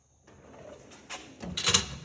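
A metal tool box drawer slides open with a short rattling scrape, ending in a clink, close by.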